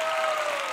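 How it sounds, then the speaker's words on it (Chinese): Audience at a corporate training event in Kuala Lumpur applauding to welcome Japanese and Korean guests, a dense, continuous wash of clapping from a large crowd, steady and fairly loud throughout. "来，我们掌声欢迎这些日本和韩国的朋友啊！"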